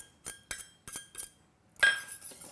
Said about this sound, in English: just whisk that until the butter melts and everything is equal, well incorporated